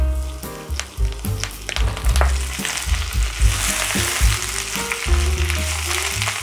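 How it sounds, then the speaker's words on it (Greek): Spinach sautés in a pan over high heat, sizzling and crackling loudly and continuously up close, with stirring clatter mixed in and no voices. "Θα του κάνω ένα απαλό σοτάρισμα και μετά θα δείτε."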